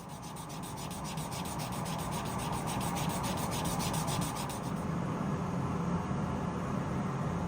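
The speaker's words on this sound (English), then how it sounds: "Here we again sand from 120 to 400" A turned wooden pendant is sanded on a lathe with grits from 120 to 400, producing a continuous soft, hissing rub at a steady, fairly quiet level.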